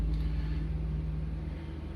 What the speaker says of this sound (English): I think it's a street sweeper outside